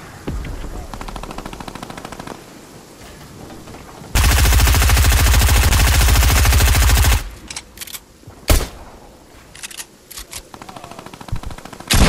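Rapid sustained bursts of automatic gunfire from a silver gun in a video game, one loud three-second burst of continuous shots followed by scattered single shots and short fire amid other game noise.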